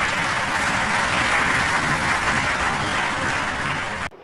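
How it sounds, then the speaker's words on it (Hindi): An audience claps steadily during a speech by Modi, a dense continuous wash of applause that stops abruptly near the end. "उनके सामने बैठे सारे पढ़े लिखे लोग अंधभक्तों की तरह ताली पीट रहे हैं"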